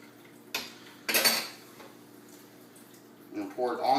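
Utensil clinks and scrapes against a cup while a marinade for London broil is mixed, a few short bright knocks spread over a few seconds, with a voice speaking near the end.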